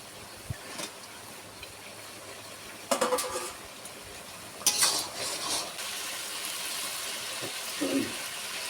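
Fried fish pieces dropped into a pan of cooked-down spice masala: two clattering bursts of metal contact and stirring rise over a faint, steady sizzle, with no voices.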